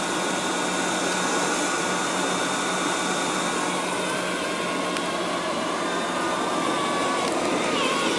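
A Liectroux B6009 robot vacuum cleaner runs across a rug with a steady, loud whirring drone and airy hiss that holds constant throughout.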